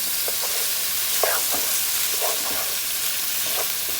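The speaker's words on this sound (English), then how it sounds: "I'm just trying to cook them until they get a little browned" Ingredients for New Orleans style red beans and rice sauté in a pan with a loud, constant sizzle, broken by occasional soft scrapes of stirring, and no voices.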